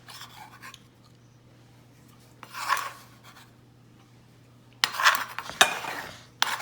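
Stuffed pepper filling being mixed in a bowl for mini sweet peppers, with two separate bursts of scraping and clinking from a utensil against the bowl, separated by quiet, a steady low hum beneath.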